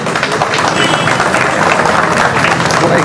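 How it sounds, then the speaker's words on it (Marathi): Crowd applause at a Republic Day police parade in front of the MIDC police station, a loud sustained burst of clapping from many people, close and continuous, with some voices mixed in. "जोरदार टाळ्या वाजवून आपण त्यांचंही प्रोत्साहन वाढवूया."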